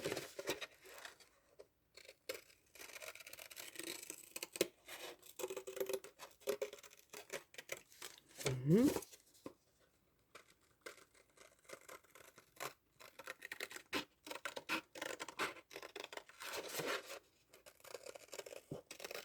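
Scissors cut through paper while a perpetual calendar is being crafted, quiet intermittent snips and rustling spread across the stretch, faint and close with pauses between cuts.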